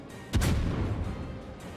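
A single heavy boom of naval turret gunfire in a warship video game, a cruiser-class Des Moines firing, striking sharply and then rolling into a long, loud rumbling decay with no talk over it.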